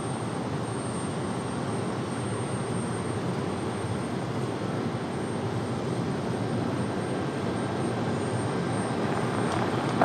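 A Lufthansa 409 Heavy airliner at Raleigh Durham airport gives a continuous, fairly loud engine rumble, steady and unbroken at a middling distance with no talk over it.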